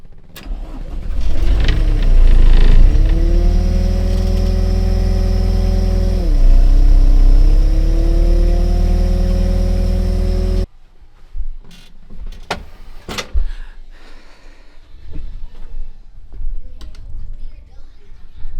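Pel Job LS2000 mini excavator engine cranking and running roughly with a steady droning note that sags and recovers, loud and close, then cutting off abruptly into quieter clanks and handling noises.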